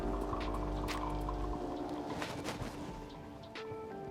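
Coffee streams and splashes from a Gaggia Cadorna superautomatic espresso machine into a cup, a soft, close trickle with light spatters over a low machine hum that cuts out after a moment.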